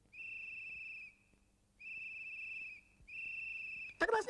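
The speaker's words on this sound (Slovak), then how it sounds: "My na schvál pískame falošne, lebo sme nahnevaní." Cartoon characters whistle off-key on purpose in three sustained, steady tones separated by short pauses, followed by a brief burst of noise at the end; no talking over the whistling.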